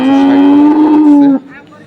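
A dairy cow at a cattle market in Dinajpur, Bangladesh, lets out a single loud, close moo, long and steady, before it breaks off into quieter background noise.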